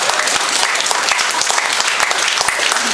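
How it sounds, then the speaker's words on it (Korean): Dense, steady applause from a large audience at a Korean national civic rally, many hands clapping loudly and continuously throughout with no voices standing out. "이때 박수를 치셔야 됩니다"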